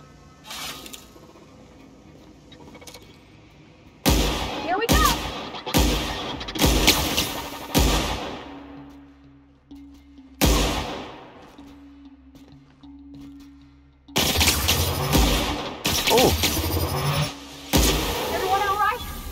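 Loud, punchy charged gun blasts from The Outer Worlds fire in bursts, some single shots and some rapid clusters, separated by quieter gaps with a low electronic hum.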